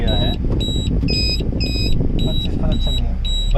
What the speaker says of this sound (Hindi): जब भी CNG ख़त्म होती है अलार्म का आपको पता ही होगा, अलार्म बज जाता है।